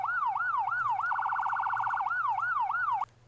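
A fire chief vehicle's manually cycled siren in a Montana-themed emergency game mod, wailing up and down, switching to a rapid yelp midway, then back to wailing before cutting off abruptly, loud and close.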